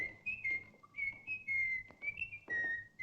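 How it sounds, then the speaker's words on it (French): A man whistles a tune in short, clear melodic phrases with brief pauses between them, fairly close and alone with no talk, in a jury room scene from a 1957 film. "Je vous en prie, cessez de siffler."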